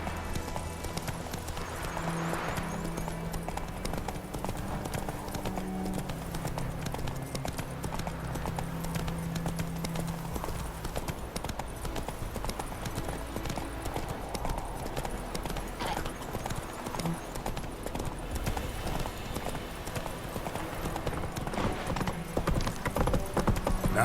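Horse hooves clip-clopping in The Witcher 3 video game, a continuous rapid galloping rhythm over ambient game sound, with a brief whinny-like accent and faint talk.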